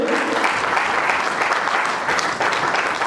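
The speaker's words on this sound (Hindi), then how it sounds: "जोरदार तालियों के साथ स्वागत किया जाए" Audience applause at a neuroscience training event in Jaipur: dense, steady clapping from a large indoor crowd that fills the whole moment at an even, loud level.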